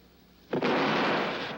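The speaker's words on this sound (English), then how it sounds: "An explosion." A sudden loud explosion bursts in after a quiet lead-in, then rumbles and hisses on with a broad, noisy roar that slowly fades; a short sound effect for a children's street scene.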